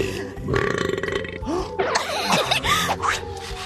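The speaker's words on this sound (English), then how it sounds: "most of the gas in soda comes out of your body as burps" Loud, drawn-out burps, apparently from drinking fizzy soda, roll out one after another over several seconds with a gurgling, grunting texture.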